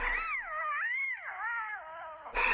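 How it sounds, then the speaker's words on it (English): A young lion cub tries to roar, producing a thin, wavering, high-pitched moan that rises and falls for about two seconds, fairly quiet and heard alone. "cubs will try to join in even when they aren't old enough to roar yet."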